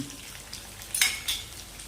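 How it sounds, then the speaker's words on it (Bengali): Spices lightly frying in a pan with ghee and curry leaves, a soft steady sizzle with a couple of brief louder hisses as the mixture is stirred. "হালকা ফ্রাই হতে দিই"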